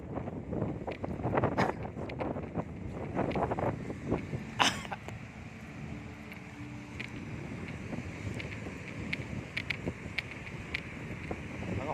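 Engine drone and wind rush from a small bangka boat moving over open sea, with intermittent splashing and gusts, fairly quiet overall.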